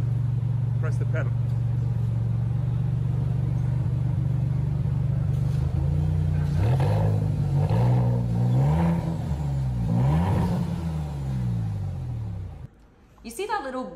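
A Maserati MC20 supercar accelerates hard as the pedal is pressed, its engine growl rising through several climbing rev sweeps, loud and close, before cutting off abruptly near the end.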